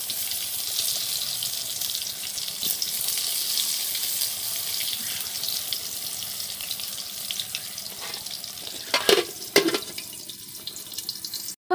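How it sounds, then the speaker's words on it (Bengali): Eggplant slices sizzle in hot oil in a kadai, a steady, soft hiss with a few clinks and clatters of utensils toward the end. "বেগুন ভাজা দেখো করে নিচ্ছি"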